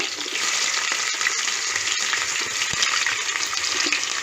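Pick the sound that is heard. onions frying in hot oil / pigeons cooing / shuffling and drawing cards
onions frying in hot oil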